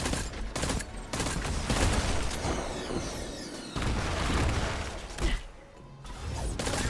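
Rapid bursts of pulse rifle fire in Destiny 2, loud and close, with dense overlapping shots and brief pauses between volleys across the whole stretch.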